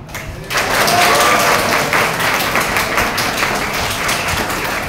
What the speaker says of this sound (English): We can give a big hand clap for her.